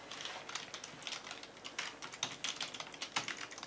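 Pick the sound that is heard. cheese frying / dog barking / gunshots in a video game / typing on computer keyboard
typing on computer keyboard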